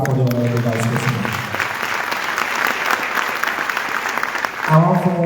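Audience applause at a government event for a Sierra Leone vice president, a dense burst of clapping lasting several seconds between stretches of a speaker's voice.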